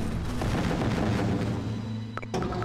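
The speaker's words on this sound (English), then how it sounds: "I will be using an ion cannon in a second." An ion cannon fires in a strategy video game, a sustained roaring barrage of booming blasts with a couple of sharp cracks near the end, loud and continuous.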